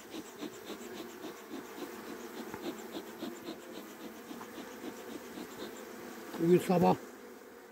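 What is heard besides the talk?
honeybees buzzing at a hive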